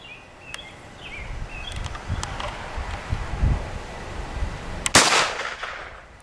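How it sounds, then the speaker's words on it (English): A single firearm shot fired single action outdoors, one sharp loud crack near the end after a stretch of wind and rustling with faint birds. "But I'm gonna shoot it single action"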